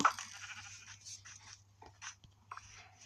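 Short, quiet bleats from a game sheep, a few scattered calls with faint clicks and a low steady hum underneath.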